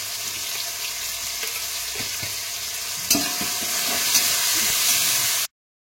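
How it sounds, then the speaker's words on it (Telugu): Tomato and crab masala base frying in a pan with salt and turmeric, a steady loud sizzle with a few stirring scrapes, growing slightly stronger partway through before cutting off. "అలాగే కొద్దిగా పసుపు కూడా వేసుకుంటే పచ్చి వాసన అంతా పోయే వరకు వేయించుకోవాలి"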